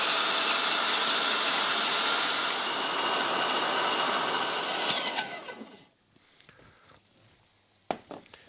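An electric meat grinder runs steadily and loudly, mincing meat for a Greek and Cypriot moussaka; the motor whine cuts off near the end, leaving faint kitchen clatter and a brief knock.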